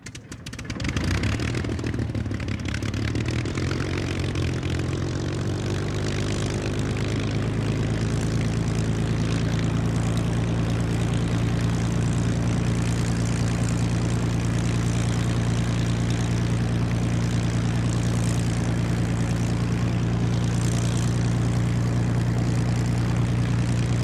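A Spitfire Mk V fitted with a Rotol propeller runs its engine with a deep, steady propeller drone that builds in the first seconds and then holds loud and constant, with no voices.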